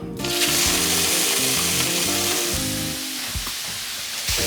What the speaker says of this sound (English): I'm gonna go ahead and add in some olive oil, and I've got some shrimp that are ready to be cooked off.